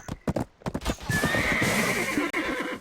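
In the video game Black Desert, rapid hooves clatter up close, then a horse lets out a long, loud whinny that rises and wavers before dropping off.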